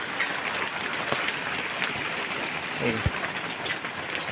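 Heavy rain pours steadily onto a roof in a dense, continuous wash of patter, with a few louder drips and knocks scattered through it.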